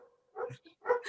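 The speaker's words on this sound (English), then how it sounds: "Sorry about my dogs." Several dogs bark in short, loud bursts during a home video call, with sharp yips clustered near the start and end of the moment and brief quiet gaps between them.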